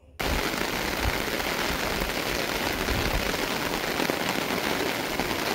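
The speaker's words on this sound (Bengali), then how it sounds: "আর সাউন্ডটা জাস্ট শোনো, বৃষ্টিটা কত জোরে হচ্ছে।" Heavy monsoon rain pours down steadily in a village courtyard, a dense, loud, unbroken hiss and patter with no talk over it.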